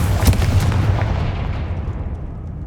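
A fiery Confringo spell blast in the Hogwarts Legacy video game, a loud booming burst with a sharp attack that rolls into a rumbling low tail and slowly fades.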